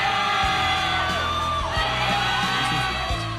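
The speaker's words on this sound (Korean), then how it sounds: "환호성이 들리고 있습니다." A studio audience at a live talk show on history breaks into whoops, yells and cheering, a loud, sustained mix of shouting voices with rising and falling cries layered over a general crowd roar.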